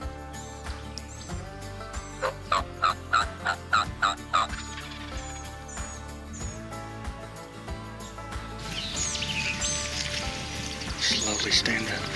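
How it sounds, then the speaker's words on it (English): Wild turkey gobbling during a spring turkey hunt in North Carolina: a quick series of rattling gobbles, then another burst, heard at moderate distance over outdoor background noise, with no talking. "I hear 2 big gobbles let out"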